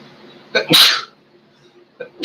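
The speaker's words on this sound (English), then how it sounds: "I got to sneeze 1 minute." Two sneezes up close, each a sharp sharp intake followed by an explosive burst, separated by a second of near silence.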